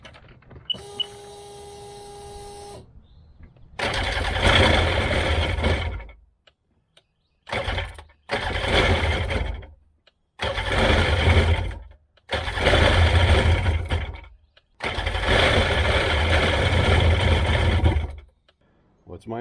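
A 2002 Sea-Doo GTX DI jet ski that has sat unused for months cranks in repeated separate bursts of a few seconds each, a loud mechanical whir broken by short silences, after a brief electronic tone at the start.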